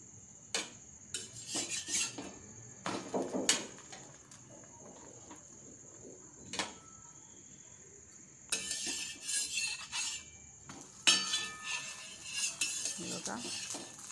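Pav bread shallow frying in a pan for Mumbai street-style vada pav, heard as intermittent scraping and clinking bursts of a spatula against the pan over a faint steady background, with no talking.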